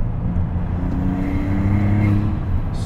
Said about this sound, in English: I get the feeling that this engine is very stressed.